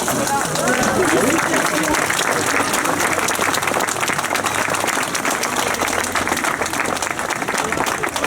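Outdoor crowd applause at the inauguration of a renovated fountain in a town square, loud and sustained, with voices talking through the clapping.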